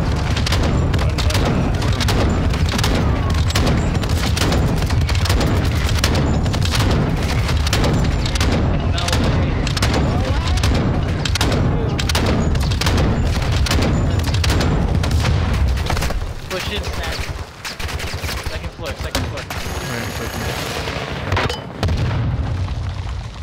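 Gunfire rattles almost nonstop in the multiplayer shooter Call of Duty DMZ. Rapid, loud bursts of shots and booms fill most of the stretch and thin out near the end, with players' voices talking over the noise.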